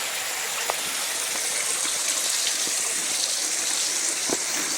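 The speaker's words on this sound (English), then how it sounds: "There's moving water down there." Steady broadband rush of flowing water, constant and fairly even, like a stream heard from nearby with no voices.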